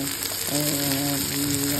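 Egg and soft vegetables such as capsicum fry for egg bhujia with a steady, dense sizzle that stays continuous and close throughout.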